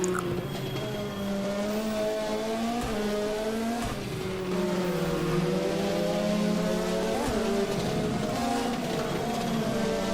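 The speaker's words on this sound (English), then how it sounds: "Listening to George Malice right now is not a bad sound either. He's also in a Ford Escort Cosworth" A Ford Escort Cosworth rally car climbs a hill in a European Hill Climb Championship round, its engine loud and steady close up, with a sustained high-revving note rising and falling through gear changes and no pauses.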